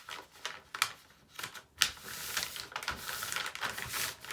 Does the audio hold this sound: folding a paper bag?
yes